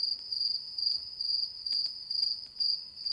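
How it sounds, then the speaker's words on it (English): Crickets chirp in bursts of high, shrill trills that repeat in a steady rhythm against an otherwise quiet background. "I can hear the crickets."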